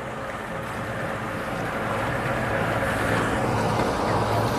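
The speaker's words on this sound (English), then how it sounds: "It's a windy day." Strong wind rushes steadily across a marina boat ramp, a loud, broad roar with a faint low engine or traffic drone underneath and no talking.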